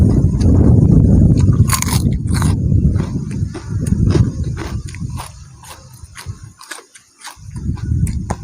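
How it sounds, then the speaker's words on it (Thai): Close-up biting and chewing of grilled squid outdoors in a windy open field, with crisp, squeaky bites followed by rhythmic, wet mastication that fades briefly before chewing picks up again. "กัดเข้าไปแต่ละคำนี่กึดเลยพี่น้อง"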